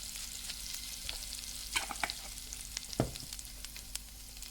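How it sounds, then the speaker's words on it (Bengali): Dry oregano sizzles in a pan for creamy mushroom spaghetti, a soft steady frying hiss with a few faint utensil taps, quiet and close. "একটু ড্রাই অরিগানো দিচ্ছি।"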